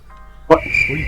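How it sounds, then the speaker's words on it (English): Crickets chirping outside: a short burst of voice gives way to a thin, high, sustained chirping tone that carries on close and clear for under a second. "There's crickets outside."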